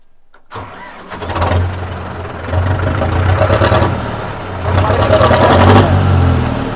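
A Hindustan tractor's diesel engine cranks and catches after a brief silence, then idles with a loud, steady throb that rises slightly partway through.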